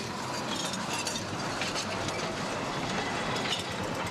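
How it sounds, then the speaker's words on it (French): A forest steam train at Abreschviller in Moselle pulling away, a steady clanking, rattling roar of wheels and mechanism with hissing, close and continuous, no talk. "Le train forestier d'Abrèchevillers repart."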